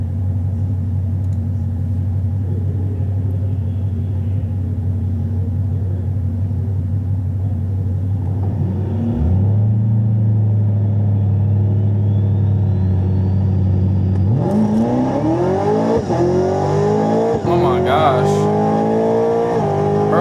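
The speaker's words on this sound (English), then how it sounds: "Oh, the Corvette brothers rolling out." A loud Corvette engine rumbles at idle, then revs up and accelerates hard, its pitch climbing through several gear shifts as it pulls away.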